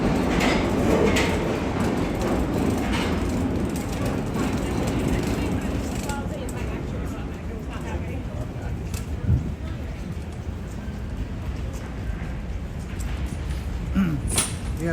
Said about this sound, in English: You can hear the train track.